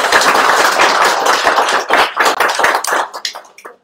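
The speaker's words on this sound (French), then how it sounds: "je vous demande d'applaudir aussi très fort." Audience applause at a university panel on Ukraine: dense, loud clapping from a crowd that thins out and fades to a few scattered claps over about four seconds.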